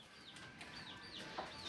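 Chickens cluck and chirp softly over a steady noisy background, with short calls scattered throughout and no talking.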